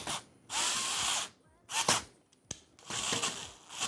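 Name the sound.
power screwdriver driving screws into PC case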